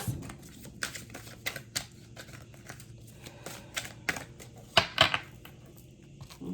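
Quick crisp riffling and soft slaps of tarot cards being shuffled by hand, a run of short bursts close up with a low hum underneath.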